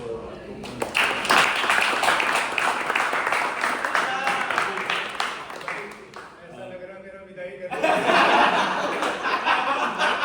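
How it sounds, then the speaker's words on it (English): Cricket team players in their dressing room break into a loud round of clapping mixed with laughter and chuckles, the applause dipping briefly before surging again near the end, with voices chattering throughout. "Big round of applause"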